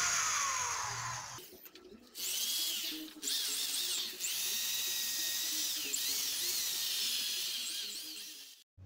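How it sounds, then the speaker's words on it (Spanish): A power drill spins a wire brush against rusty drum brakes, giving a sustained high whine and scraping grind with brief pauses where the tool stops and restarts. "a limpiarlos con una carda y con un taladro hasta que no quede nada, nada, nada de óxido"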